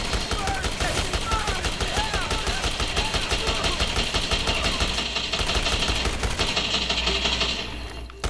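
Rapid gunfire from the video game Dead Rising, loud and continuous bursts over a steady mechanical rumble, with a brief drop near the end.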